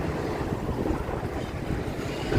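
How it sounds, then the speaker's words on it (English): Morning wind on the Bowery in Manhattan buffets the microphone with a steady, low, rumbling roar and gusty flutter, loud and close, with no distinct street sounds emerging. "It's windy."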